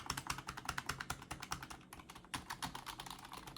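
Rapid, steady typing on a cheap $12 low-profile computer keyboard, with close, crisp key clicks in an even rhythm and a brief pause partway through.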